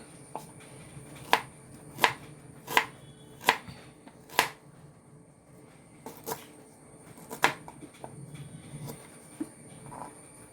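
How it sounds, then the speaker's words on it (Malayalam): Ginger being finely chopped with a knife on a board for Kerala puli inji, a series of sharp, fairly evenly spaced knife strikes close by against a soft background hum. "ഇഞ്ചി ഞാൻ ചെറുതാക്കിയിട്ടാട്ടോ അരിയുക"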